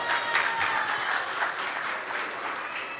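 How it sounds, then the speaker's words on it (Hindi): Applause from a live audience at an ISKCON talk show, a dense steady wash of many hands clapping at moderate loudness throughout, with no voices on top. "बजाओ ताली"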